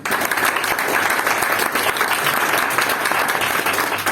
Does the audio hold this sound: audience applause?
yes